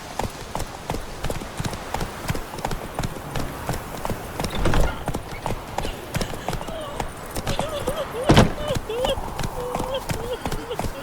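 Hooves of Roach, Geralt's horse in the video game The Witcher 3, clopping in a steady, rapid gait beneath spoken dialogue, with a brief snort.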